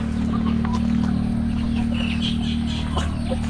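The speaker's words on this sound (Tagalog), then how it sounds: "Daming manok. Mga black chicken." Black chickens on a farm cluck intermittently in the background over a loud, steady low hum, with a few faint bird calls scattered through.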